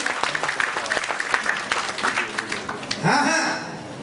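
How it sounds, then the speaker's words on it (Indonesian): Church congregation applauding during a sermon, a dense steady clatter of many hands that swells briefly near the end. "Kasih tepuk tangan yang meriah buat Tuhan."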